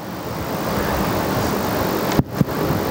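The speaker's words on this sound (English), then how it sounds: "It's quite windy up here." Steady broadband rumble of wind buffeting a microphone outdoors at an elevated spot during a panel talk, continuous and loud, with a couple of brief thumps near the end.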